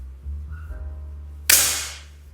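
A single sharp air rifle shot from a PCP semi-CNC rifle cracks out after some quiet mechanical handling, loud and close, with a brief decaying tail.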